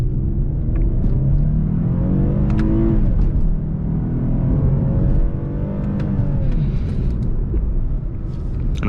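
A 2021 Lexus IS 300 AWD with a V6 launches hard from a standstill with traction control off, its engine rising in a loud, sustained climbing roar through several gear shifts, heard from inside the cabin.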